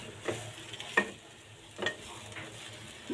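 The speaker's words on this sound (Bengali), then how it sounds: "সুন্দর করে নেড়ে চেড়ে" Potato filling with a little coriander leaf being stirred in a pan, soft scraping strokes at an easy rhythm over a faint sizzle, close and quiet with no voices.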